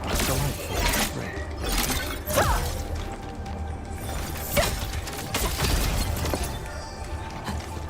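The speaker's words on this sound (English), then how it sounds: "These minerals give off quite a delightful spray." Minerals shattering in the video game Arknights Endfield, giving off sprays; several sharp cracking, crunching breaks with clattering mechanical ticks, fairly close, spread over several seconds with no talk.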